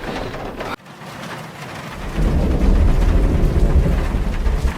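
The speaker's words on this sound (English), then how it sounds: "I don't know if it's just the storm, because it's picked up a lot." Heavy rain pours in a thunderstorm at a forest campsite, a dense steady roar that swells louder midway with deep rumbling low end, close and continuous with no talking.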